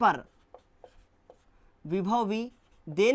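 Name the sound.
writing on a board while explaining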